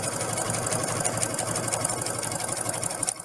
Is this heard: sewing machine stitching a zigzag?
yes